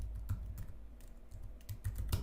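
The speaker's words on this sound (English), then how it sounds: "Having some trouble typing today." Steady, fast typing on a computer keyboard, close and continuous with a dense patter of key clicks and no talking.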